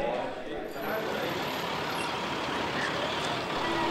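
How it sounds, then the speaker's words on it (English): School buses arriving outside a school in Red Deer, a steady low diesel engine rumble with a brief high air-brake hiss, under a narrator's voice. "One by one, buses arrive from different schools across Red Deer."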